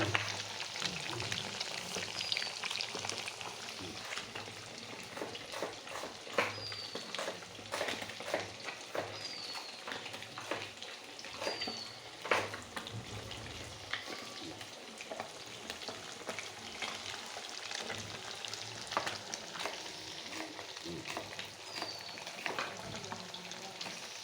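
Pieces of fish rubbed with spice masala sizzle steadily in hot oil, a close continuous crackle with frequent sharp pops and spatters throughout.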